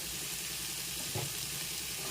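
Chikkudu beans with salt and turmeric fry in a pan, giving a steady, soft, dense sizzle with a brief stirring scrape partway through.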